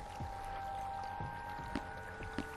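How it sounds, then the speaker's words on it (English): Water running faintly indoors in a game's tiny house, a soft continuous trickle under a steady hum, with a few light taps. "I hear water running."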